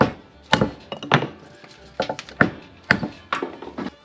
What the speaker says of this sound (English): I know, don't use a broad axe to cut wood.